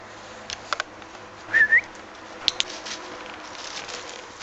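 A few short, rising tones from a plastic dog-recall whistle sound at moderate loudness, with faint clicks and quiet background noise between them; no talking.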